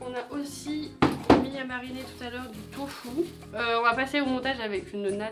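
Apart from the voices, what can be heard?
No everyday noises stand out.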